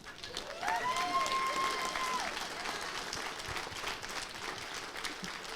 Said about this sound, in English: Everybody give Ron Perlman a big round of applause.